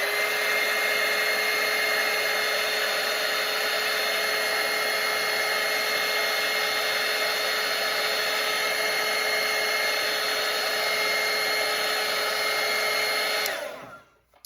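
A hair dryer blows on wet watercolor paint in a Christmas ornament painting, a loud, steady whine and rush of air that holds constant for most of the clip before it cuts off abruptly near the end.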